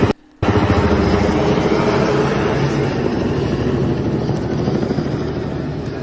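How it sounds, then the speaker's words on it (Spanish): Helicopters fly overhead in Reynosa, Tamaulipas, making a loud continuous rotor roar that fills the whole stretch after a brief cut at the start. "Hay la presencia de helicópteros."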